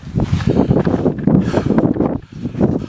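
Strong wind gusting across a microphone in Joshua Tree National Park, a loud, close, rumbling buffet that surges and dips for a few seconds with no voices.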